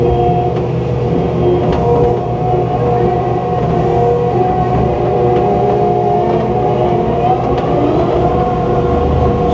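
A Takeuchi TL11R3 track loader's diesel engine runs at a raised idle close by, a loud, steady low rumble with sustained harmonic drone and slight fluctuations throughout, with no speech.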